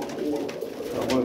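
A black-tailed Armavir fighting pigeon coos softly in a winter setting, a low murmuring call that carries through about a second with a slight swell near the end, moderately quiet and close.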